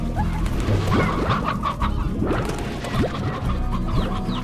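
A hen in the video game Slime Rancher clucks in short, repeated calls over a busy game soundscape with thumps and knocks, steady and fairly loud for the whole stretch.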